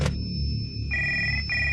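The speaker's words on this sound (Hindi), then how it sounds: "फोन बजा" A telephone rings close by, a bright electronic trill that starts, pauses briefly and resumes, repeating in short bursts over a low background hum.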